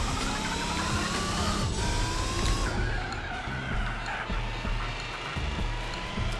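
A revving Nissan concept car engine in a racing video game, with tire screeches as it swings through turns, loud and continuous, with gear shifts and a rising, falling whine.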